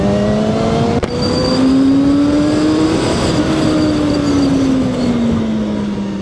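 A 2025 KOVE 450RR motorcycle engine accelerating hard, its loud rising drone climbing steadily in pitch then easing back as it shifts, close and continuous with no talk.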